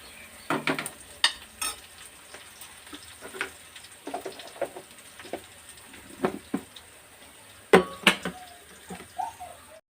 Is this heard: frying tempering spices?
yes